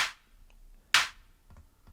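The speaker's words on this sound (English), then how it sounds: "So we've got this clap," A crisp clap sample from a deep house loop in Ableton Live, sharp bright hits repeating on the beat with a short decay, loud and isolated with faint softer percussion between.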